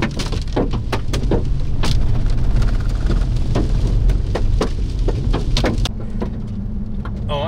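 Golf ball-sized hail pounds down during a severe thunderstorm in Texas, with a dense, loud clatter of sharp impacts against surfaces that continues steadily throughout under heavy rain.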